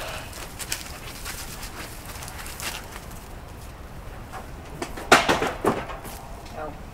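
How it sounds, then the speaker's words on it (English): A pigeon or dove coos amid steady outdoor background noise while people talk nearby, with a few louder bursts rising near the end. "Oh, the bird."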